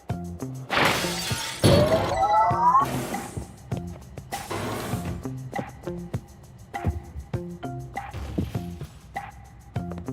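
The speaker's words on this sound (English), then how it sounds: "the breaking of this glass is a necessary evil" Glass shatters loudly in the Quantum Conundrum video game, a sharp crash with scattered tinkling debris, followed by softer repeated mechanical game sounds and occasional yips from a small creature.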